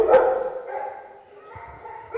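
Dogs bark in a pet shop where dogs, cats and birds are sold, with a loud close bark at the start, softer whimpering yips in between, and another sharp bark at the end.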